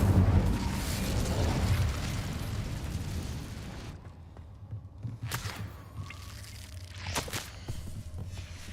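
Incendio fire spell cast in Hogwarts Legacy, a loud rushing burst of flame and eruptive roar at the start that fades out, followed by softer scattered pops and thuds.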